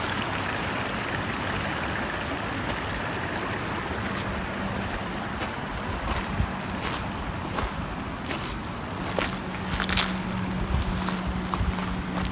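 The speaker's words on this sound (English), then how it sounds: "Spring. It's coming from a spring. Isn't that interesting? Like it's flowing down." Water from a spring flows in a stream over sand at Pedernales Falls State Park, Texas, making a steady, broadband rush that runs unbroken throughout with no talking.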